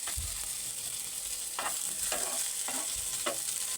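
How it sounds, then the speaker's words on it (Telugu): Boiled potato frying in a little oil in a pan, a steady hiss of sizzling broken by a few quick stirring scrapes, close and fairly quiet with no voices. "ఇలా పొటాటో ఉడికించుకొని పెట్టుకున్న పొటాటోని కొద్దిగా నూనెలో వేయించుకుందాం"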